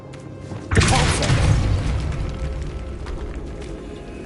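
The Depulso spell in Hogwarts Legacy goes off with a sudden heavy boom and a crashing burst that rumbles and fades over a few seconds. It is loud and close, with game ambience under it and no talk.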